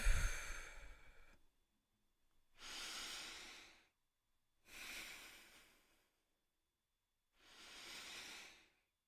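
Deep, slow breaths drawn and released during a guided mindfulness exercise: four long, airy breath sounds spaced a couple of seconds apart, close to the microphone and heard alone in an otherwise quiet room.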